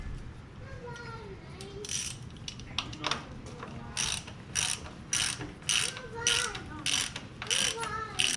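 A ratchet tightens parts back onto a John Deere 3020 tractor after an oil change, giving bursts of quick, crisp clicking strokes up close, with brief pauses between them and faint voices in the background.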